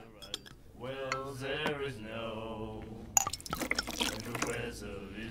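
Drink poured into a glass in Call of Cthulhu, a trickling liquid fill heard alongside a man's speech, ending in a brighter splash and clink near the close.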